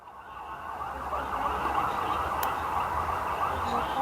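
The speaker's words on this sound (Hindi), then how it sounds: "हर तरफ आपको एम्बुलेंसेस नजर आएंगी।" Ambulance sirens wail over a busy street in Jerusalem during attacks, a steady layered rising and falling whine blended with traffic rumble at moderate distance.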